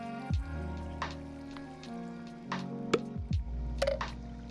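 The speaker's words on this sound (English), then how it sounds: "We gotta get the bloop noise." A watery bloop effect plays during a livestream, several soft drip-like plops spread over a few seconds, layered over sustained background music tones.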